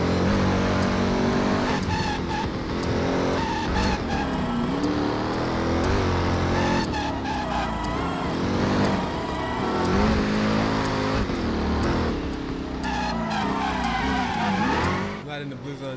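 Car engine roaring and tires skidding in the Driver San Francisco video game, a loud continuous drive layered with game music and effects, with a person talking over it.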